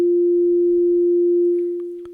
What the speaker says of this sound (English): We just want sine wave.